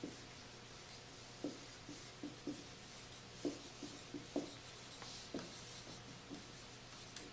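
A pen or pencil scratches softly across paper in short, irregular strokes, quiet and close.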